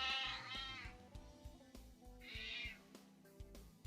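A cat meows twice in clear, drawn-out calls, near and fairly loud, with background sound underneath and no talk.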